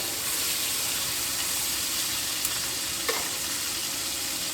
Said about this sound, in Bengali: তাহলে মাছ ভাজা আমার হয়ে গেছে